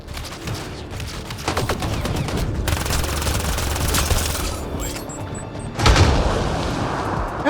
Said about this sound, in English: Oh yeah, that was a nice explosion.